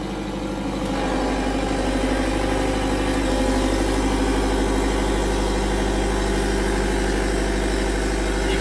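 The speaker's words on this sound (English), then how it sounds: "the DST is going to start up, close its breaker" A diesel standby generator starting up and running in a synchronising setup, a loud steady low engine drone with mechanical vibration that builds in the first second then holds constant, no speech.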